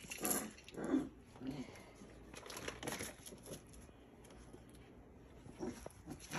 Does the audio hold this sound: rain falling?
no